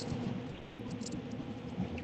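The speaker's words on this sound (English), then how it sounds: "Yeah, it's raining hard." Heavy rain pours steadily, a dense close hiss with a faint low rumble beneath, continuous and alone with no talking.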